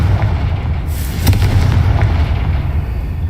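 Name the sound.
Confringo spell explosion in a Harry Potter video game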